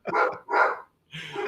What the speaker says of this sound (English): My dog is about to want some attention, man.